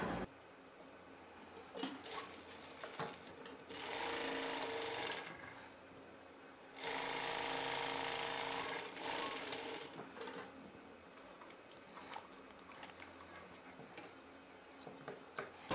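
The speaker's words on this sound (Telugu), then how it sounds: "ఇలా రెండు వైపులా ఈ పాకెట్ ని అయితే స్టిచ్ చేసాం" A sewing machine stitches a dress pocket, running in two sustained, fairly loud bursts of whirring stitching separated by a pause, with quieter fabric handling and rustling around them.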